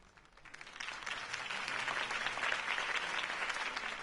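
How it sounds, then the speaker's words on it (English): Crowd applause in Batman: The Telltale Series video game, following a political campaign speech for Harvey Dent; dense clapping swells from quiet to a steady, full roar across the clip, with no talk over it. "could have heard that applause"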